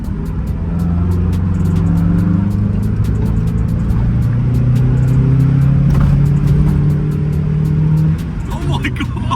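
Mazda MX5 fitted with performance mods driving on a road, its engine droning steadily with a low, loud rumble that shifts slightly in pitch, heard from inside the car, with a quick rattle near the end.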